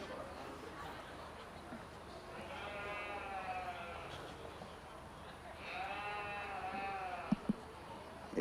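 Goats and sheep at a school livestock show bleat in two drawn-out, wavering calls from nearby, set against a low murmur of crowd chatter and a couple of sharp knocks near the end.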